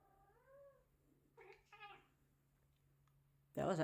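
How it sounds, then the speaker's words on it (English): A cat gives a short, faint meow, with a couple of soft vocal chirps after it in an otherwise quiet room, then a sudden loud noise at the very end. "That was an actual meow."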